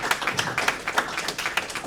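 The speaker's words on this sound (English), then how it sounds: "Stop clapping." Several people clapping in a meeting room, a quick run of sharp, irregular claps close by, steady through the short moment with no other sound.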